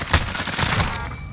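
Rapid video-game gunfire, a loud cluster of shots right at the start and then several more spaced bursts during a tense bomb-planting round, close and punchy with no talk over it.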